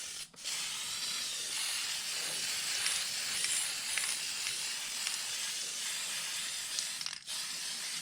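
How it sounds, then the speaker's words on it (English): Aerosol spray paint can laying a second coat of transparent colour on an Arrma Limitless RC car body, a steady close hiss held for about seven seconds, starting and stopping abruptly. "Going to lay a second coat, finish off this can. Then I have one more can we'll spray."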